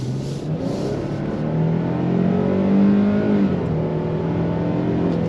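A 2025 Nissan Frontier V6 truck engine accelerating, a steady, loud low drone that climbs in pitch, peaks, then eases off, heard from inside the cab without talking.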